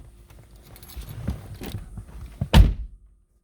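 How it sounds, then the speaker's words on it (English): A car door on a 2013 Mercedes SL550 swings shut with a single solid, close thunk near the end, after a stretch of quieter shuffling and low rumble. "We'll close the door."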